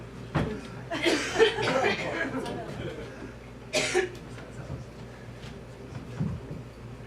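A few rough coughs and throat sounds come in bursts, close by, around a murmuring voice and a quiet hum.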